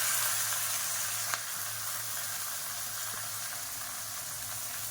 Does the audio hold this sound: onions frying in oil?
yes